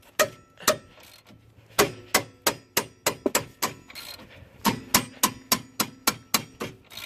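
A series of sharp metallic knocks, a hand hammering on a wrench while working on caliper slide pins of a 2004 Honda Element, in quick uneven bursts separated by short pauses, close and loud.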